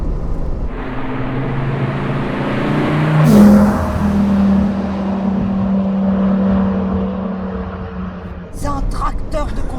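A Dodge Viper ACR Voodoo Edition idles and pulls at low revs in second gear on a narrow road, a deep steady engine drone throughout with a brief swell midway, while people talk over it.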